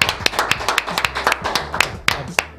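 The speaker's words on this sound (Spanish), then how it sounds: "lo vamos a recibir con un fuerte aplauso" Live studio audience clapping on a talk show, a close run of sharp, uneven hand claps rather than full applause, short and lively.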